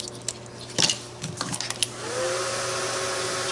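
Hair dryer blowing steadily on wet paint on a collage page, a continuous airy whir that rises and holds toward the end after a few small clicks and handling sounds.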